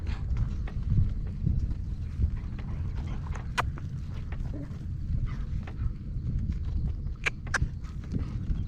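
A driven horse's hooves clip-clop at a steady walking rhythm, close and moderately loud, with a few sharp clicks and faint rustling around them.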